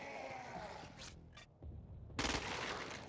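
Assault rifle fire in Crackdown 2, short bursts of shots cutting in and out, fairly quiet, with a louder sustained burst near the end.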